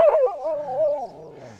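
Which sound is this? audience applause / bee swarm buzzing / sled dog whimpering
sled dog whimpering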